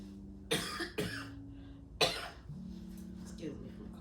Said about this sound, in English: Excuse me from coughing.